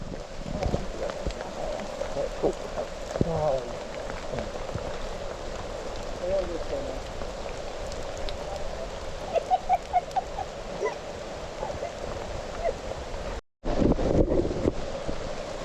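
The New River flows far below the Endless Wall trail in the New River Gorge as a steady broadband rush, with wind noise on the microphone, occasional birdsong and brief voices.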